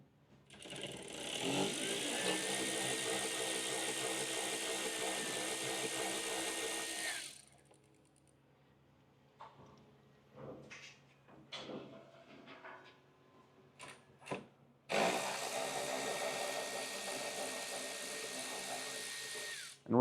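A power tool with a T30 bit whirs in two long, steady bursts while removing front bumper bolts on a 2023+ Ram ProMaster van, with scattered clinks and rattles of handling in the quieter gap between.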